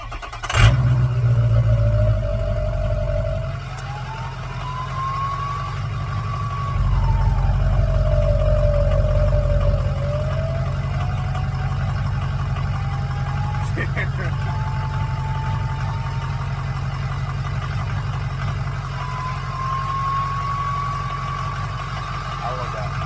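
A Ford 6.0 turbo diesel truck engine with a twin-turbo setup cranks and fires up, then settles into a loud, rumbling idle with a rising and falling turbo whine over the steady low drone.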